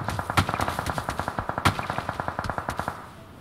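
Rapid automatic gunfire from the PUBG video game rattles in a fast, even burst of about twenty shots over three seconds. Two louder reports stand out within it, and the burst ends in a short fade, with no talk.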